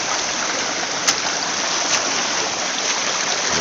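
Stream water rushing through a rerouted channel over gravel, a constant loud broadband wash with a few small splashes, close and unbroken, no talking.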